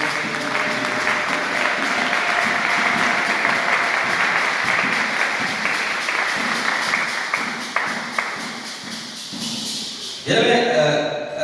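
A church congregation applauds in sustained, dense clapping that carries steadily for about ten seconds, then fades as a voice begins speaking near the end.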